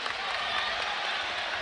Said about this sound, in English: Crowd applauds him getting up.